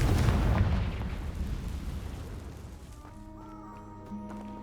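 In Hogwarts Legacy, a Confringo blasting spell goes off as a loud, rumbling explosion that decays over a few seconds into quieter game ambience with faint tones.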